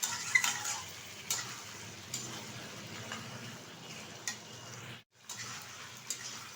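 Chicken and fried potatoes stirred in a pan, quietly: soft scraping and stirring clatter over a faint low sizzle, with a brief dropout near the end.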